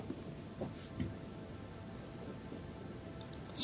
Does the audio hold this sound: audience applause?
no